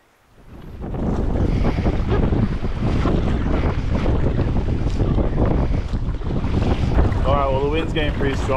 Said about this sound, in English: It's like way too windy to keep paddling